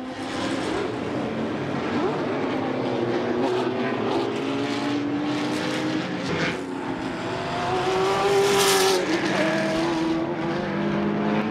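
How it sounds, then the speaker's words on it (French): Callaway C7R race car at Le Mans 1996 racing at speed with a loud, sustained engine roar whose pitch rises and falls as the car passes, heard over a busy track background. "La C7R est rapide, mais elle manque encore en stabilité."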